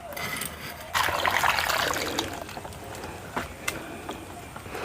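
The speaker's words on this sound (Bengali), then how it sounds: "এখন কাঁচা আমগুলোকে ভালো করে ধুয়ে নিচ্ছি" Raw mangoes being washed by hand in water for pickle making, with trickling and splashing that swells after a second and then settles into softer dribbles and small splashes.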